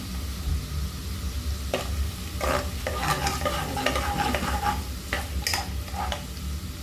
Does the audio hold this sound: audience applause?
no